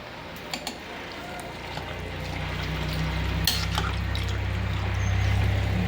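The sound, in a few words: water being poured into a pot for cooking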